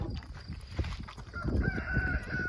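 Chickens cluck in short, scattered bursts close by, with a rooster's drawn-out crow rising near the end.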